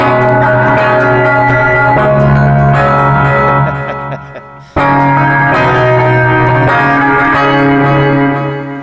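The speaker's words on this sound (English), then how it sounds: "Got a reverb on there, it seems like. Delay," An electric guitar plays ringing chords soaked in reverb and echoing delay, loud and sustained, with a brief dropout in the middle before it resumes.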